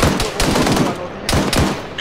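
Dense bursts of automatic gunfire from Arma 3 come loud and close, two sustained volleys rattling one after another with no break between them.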